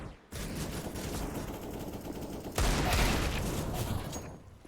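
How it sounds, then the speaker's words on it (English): Rapid SMG gunfire bursts from the video game Valorant in a competitive esports match, a dense crackling rattle that swells louder partway through, with no talk heard. "Tianki wanted some anti-eco frags there as he just pushes through the smoke with the SMG and gets dished up a headshot."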